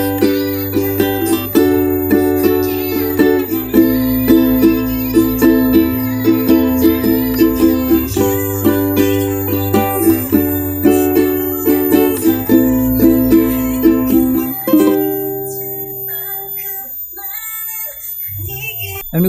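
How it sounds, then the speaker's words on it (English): Ukulele strumming the chords of a song, loud and close with a steady repeating rhythm of chord changes, fading into a few ringing notes and near silence at the end. "So if we're gonna play with the song, it's gonna sound like this."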